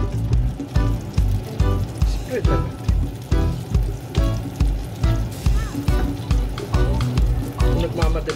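Butter and a tilapia fillet fry in a heated pan with a close, crackling sizzle and stirring sounds, while a person talks over it throughout.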